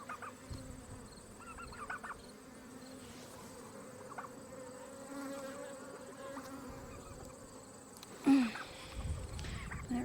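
Honeybees buzzing around wooden hive frames as a new colony moves in, a steady close drone of many wings with individual bees passing nearby, plus a brief knock near the end.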